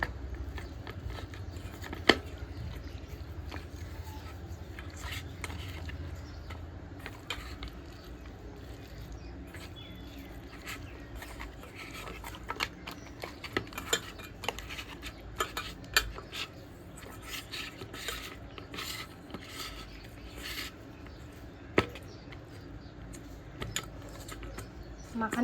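Fish pieces are mixed by hand with salt and turmeric in a metal bowl for wedding-style chyachra. Soft, quiet squelching and rubbing run throughout, broken by scattered clinks and taps against the bowl.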